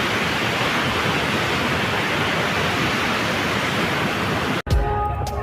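Steady, loud rushing water of a river stream near a village, a dense continuous roar that cuts off abruptly near the end.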